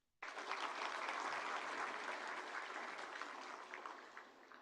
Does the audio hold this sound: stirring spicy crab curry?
no